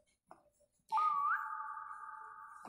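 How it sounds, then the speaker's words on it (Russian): A long steady whistled tone with a brief upward slide at the start, loud and held for nearly two seconds, heard during a Roblox 3008 game session with a short faint sound before it and no talk over it. "А кто свистнул?"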